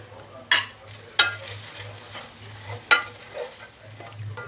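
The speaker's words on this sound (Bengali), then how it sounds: "কিছুক্ষণ আদা রসুনটা কাঁচা ভাব যাওয়া অবধি ভাজবো" Ginger, garlic and dry spices frying in a pan for butter chicken, a low steady sizzle broken by several sharp stirring scrapes and clinks spaced apart.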